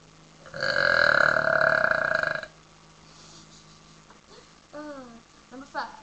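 A long, loud burp from a burping challenge, roughly two seconds of sustained guttural eructation, followed by quieter rumbles and a few short voiced sounds near the end.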